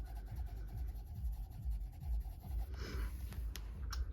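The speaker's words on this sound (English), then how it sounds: "I am doing the highlights with my coloured pencils" Coloured pencil, a Polychromos, rubbing on paper while highlights are coloured on cranberries, a quiet continuous scratchy rubbing in short strokes, close and faint over a low background rumble, with a brief brighter scrape near the end.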